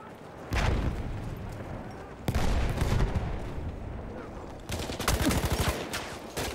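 Machine gun fire in the first-person shooter Battlefield 1 comes in three loud, sharp bursts, the last a rapid stuttering volley, with rumbling battle noise between them.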